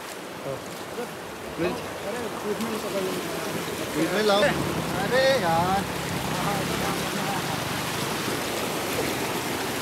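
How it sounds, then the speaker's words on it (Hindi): Motorbike splashing through a stream crossing in a jungle, rushing water and churning splashes continuous throughout, with voices talking and calling over the noise. "दूसरी वाटर क्रॉसिंग से हमारी बाइक जा रही है"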